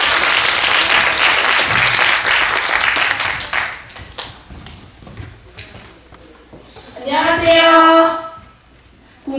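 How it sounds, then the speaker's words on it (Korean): A crowd applauds loudly for a few seconds at a youth presentation contest, the clapping fading away, followed by a brief spoken or musical tone near the end. "박수로 시작합니다."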